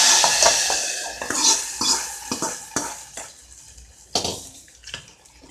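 Hot tempering of crackled mustard seeds and broken dried red chilies is mixed into cooked lentils with mulai keerai greens, giving wet sloshing strokes and sharp ladle knocks against the pot in an uneven rhythm, close and fairly loud.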